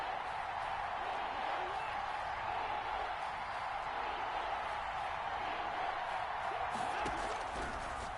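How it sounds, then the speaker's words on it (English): Stadium crowd noise from an American football video game fills the scene, a steady broad roar that swells slightly near the end as fans get into the game, with no other clear sounds. "Crowd getting in it a bit already."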